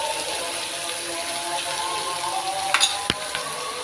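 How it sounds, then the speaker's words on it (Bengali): Ginger and garlic paste frying in oil in a pan for egg korma, sizzling steadily and close. A few brief stirring clinks and scrapes come near the end, with no voices. "আদা রসুনের পেস্টটাকে খুব ভালোভাবে নেড়ে চেড়ে কাঁচা গন্ধটা চলে যাওয়া পর্যন্ত ভেজে নিব"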